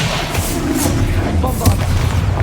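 Expelliarmus spell cast in the video game Hogwarts Legacy, heard as a dense, steady stretch of booming thumps and muffled impacts with a brief sharper hit midway, all under a continuous rumbling bed.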